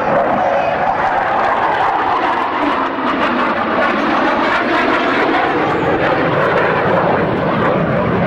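An F-15 fighter jet flies at an airshow, a loud, continuous roaring jet wash that holds steady across the whole span with no pauses, an announcer's voice faintly mixed in.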